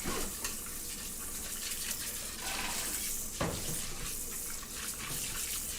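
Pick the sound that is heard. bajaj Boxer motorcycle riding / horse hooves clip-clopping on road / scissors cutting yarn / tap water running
tap water running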